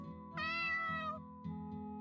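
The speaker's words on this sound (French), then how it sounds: "c'est vrai qu'ils font miaou ces trucs-là" Game creatures meow in a fantasy forest setting: one long, clear meow followed by a shorter one, both over a steady low background hum.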